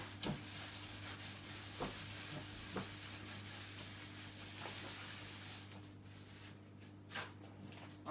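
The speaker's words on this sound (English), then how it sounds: "I'm just going to rub the pan with it." Oiled kitchen towel is rubbed over a pan, with faint, soft scraping strokes and occasional light knocks over a steady low hum in a quiet kitchen.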